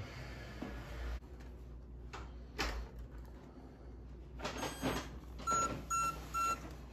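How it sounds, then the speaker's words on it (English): Three short electronic beeps, evenly spaced, ring out near the end after a few brief clattering noises over a low background hum, from an Apprentice STS trainer model airplane. "three beeps that you just heard on there"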